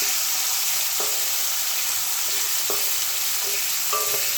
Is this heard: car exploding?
no